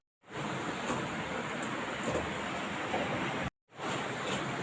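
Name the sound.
draining water from boiled papaya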